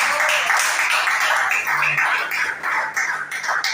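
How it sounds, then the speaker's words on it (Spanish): A church congregation applauding together, a dense, steady wash of clapping lasting a few seconds at full volume with little else over it. "Denle un aplauso al Espíritu Santo."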